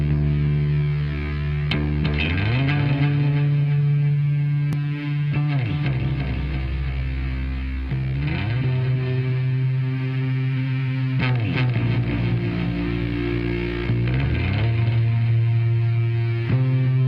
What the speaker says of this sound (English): the echo that you just heard and the fuzz that you heard just preceding it, I can combine both of those and kick that in